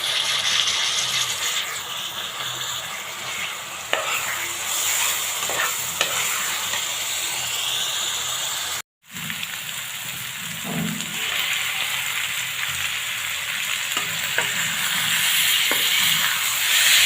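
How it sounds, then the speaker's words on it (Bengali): Chili powder and turmeric powder frying in a pan, a steady bright sizzle with stirring scrapes, a brief dropout midway, then continuous frying with occasional utensil knocks. "মরিচের গুঁড়ো, তারপর হলুদ গুঁড়ো দিয়ে ভালোভাবে কষিয়ে নেব"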